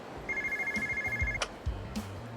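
A payphone rings in the video game Yakuza 0, a bright electronic trill sounding once, followed by soft game sound effects.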